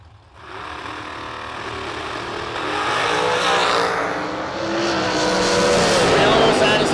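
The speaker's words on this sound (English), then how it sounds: "We almost had us a drag race right there." Drag racing cars launch down the strip, an engine roar swelling from quiet into a loud, sustained high-revving scream that builds and shifts as the cars pull away, with people talking over it.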